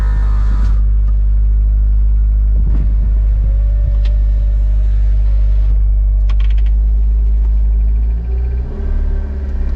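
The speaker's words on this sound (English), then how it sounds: "The engine sounds pretty good." A Honda Civic Del Sol engine idles steadily with a deep, loud low rumble, a few small clicks and knocks over it, no voices.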